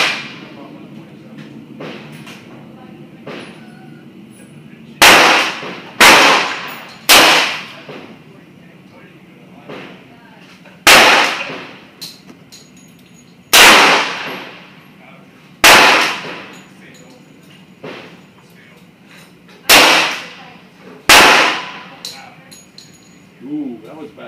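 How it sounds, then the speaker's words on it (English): Gunshots ring out one at a time at a shooting range target, about nine loud, sharp cracks spaced several seconds apart, each with a short decay, while people talk quietly between them. "I'll shoot at my target."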